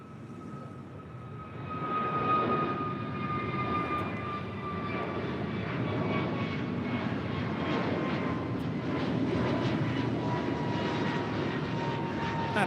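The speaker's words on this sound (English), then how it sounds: "That is Alaska 310 departing to Washington Dulles on an A321 Neo." Alaska Airlines A321neo jet departing LAX, its engines roaring with a steady whine overhead, loud and sustained across the whole stretch.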